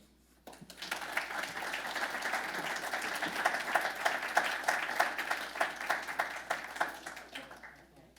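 Audience applause breaks out to welcome a speaker, dense steady clapping from a sizable crowd that swells midway and holds for several seconds, close and full, with no talk over it.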